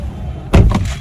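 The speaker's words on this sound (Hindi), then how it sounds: "दरवाजा खोलो।" A car door is opened at the roadside in one sudden clunk halfway through, followed by a short rattling tail after near-quiet.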